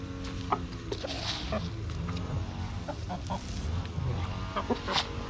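Several chickens cluck and call close by in an irregular, overlapping chorus, with a low rumbling background throughout.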